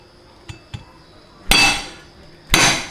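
Two light taps followed by two heavy, sharp pounding thuds on red chillies, spaced about a second apart, close by.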